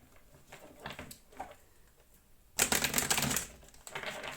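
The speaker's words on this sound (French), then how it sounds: "On va mélanger un petit peu les cartes." Tarot cards being shuffled by hand, soft rapid flicks and taps at first, then a louder dense riffle burst in the middle, close to the microphone and otherwise quiet.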